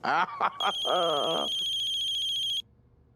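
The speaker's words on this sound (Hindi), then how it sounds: "ये किसका फोन आ रहा है?" A phone ringtone sounds with a bright, steady electronic trill for about two seconds, overlapping a voice speaking at the start.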